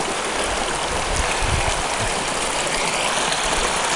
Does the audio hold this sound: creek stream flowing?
yes